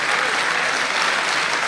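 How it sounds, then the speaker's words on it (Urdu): Steady, dense applause from a mushaira audience in Dubai for poet Tehzeeb Hafi, a continuous loud wash of many hands clapping without pause. "ایک بار مجموعی طور پہ یار حافظ بھائی کے لیے تالیاں بجائیں یار"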